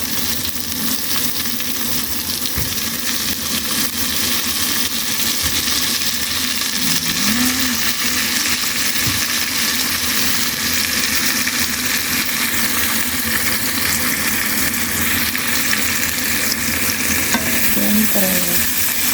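Loud, steady sizzling of tomatoes frying in hot oil previously used for frying fish, with occasional stirring scrapes, a constant crackling hiss from start to finish.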